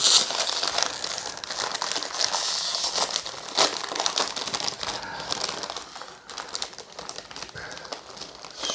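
Crinkly plastic packaging of Big Bon rice noodles with tom yum sauce rustles and tears in close, sharp bursts, continuous crackling with a few louder rips and no talking.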